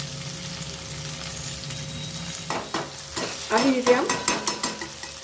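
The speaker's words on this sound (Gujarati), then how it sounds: "આદું એડ કરી લઈએ અને એને પણ આમ સાતળી લઈએ" Grated ginger and green chilies sauté in a clay pot, a steady low sizzle with stirring scrapes and clinks picking up in the second half, under brief speech.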